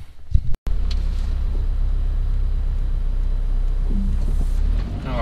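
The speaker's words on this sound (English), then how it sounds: "I do hear wind noise, but not any tire stuff." Steady low road rumble and wind noise inside a moving car, continuous and fairly loud throughout, with a brief click near the start.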